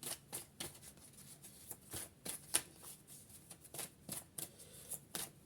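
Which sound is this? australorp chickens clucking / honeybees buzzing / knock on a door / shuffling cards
shuffling cards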